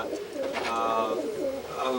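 A white self pigeon hen coos close by in short throaty bursts, with bird sounds layered over one another.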